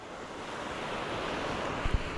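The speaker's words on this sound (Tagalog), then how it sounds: "Malaki ang hibas ng dagat ngayon kaya yung motherboat ngayon ay nahibasan." Large sea waves rolling in at the shore on a rough day, a steady broadband wash of surf with wind rumble, ending in a couple of brief low thumps, with no talking.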